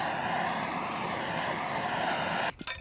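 Steady, loud motor drone from a small flying drone hovering close by during boat engine restoration work, holding an even tone before cutting out abruptly near the end.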